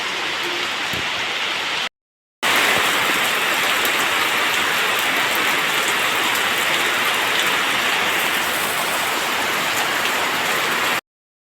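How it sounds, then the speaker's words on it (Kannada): Heavy rain pours down in a loud, dense, continuous roar that fills the clip after a brief quieter start and a short gap. "ಜೋರು ಮಳೆ ಬಂತು."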